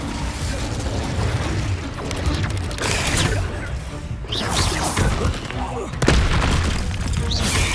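Booming magical blasts and crashing impacts from fire spells cast in Hogwarts Legacy combat, loud and repeated amid chaotic battle noise, with a voice shouting spell names over the fighting.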